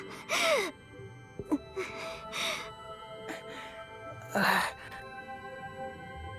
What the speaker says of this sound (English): That breathing sounds like someone is in pain.